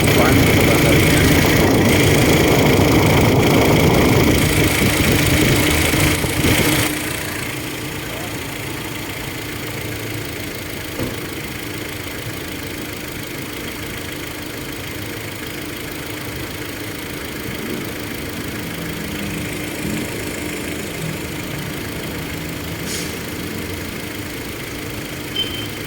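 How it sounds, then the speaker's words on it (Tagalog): A Hyundai car engine idles with its radiator fan running, a steady close mechanical hum and whir. The sound is louder and rougher for the first several seconds, then settles into a lower constant drone. "Gumagana na rin yung fan, gumagana rin yan."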